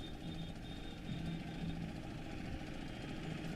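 Tractor engine idling during a farmers' rally with about 1200 tractors, a steady low diesel rumble with a faint tonal hum, continuous and fairly close.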